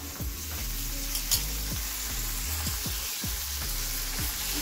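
Fenugreek leaves frying in a pan with ginger garlic paste, a soft steady sizzle broken by repeated scraping stirs, close and fairly quiet with no voices.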